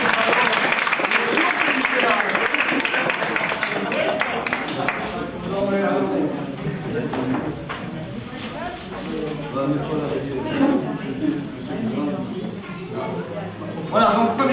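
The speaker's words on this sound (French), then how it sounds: "On va applaudir, hein." An audience at an evening Belgian karate demonstration gives a round of applause, with clapping densest early on and then mixing with someone talking loudly into a microphone over the rest of the clip.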